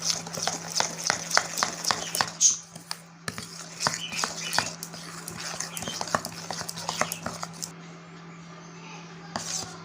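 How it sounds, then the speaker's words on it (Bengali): Cornflour being stirred into biscuit dough in a bowl for village-style Bengali atta biscuits, giving a run of close scraping and tapping strokes in an uneven rhythm that fade out toward the end, over a faint steady hum. "এটা ভালো করে মিশিয়ে নেব।"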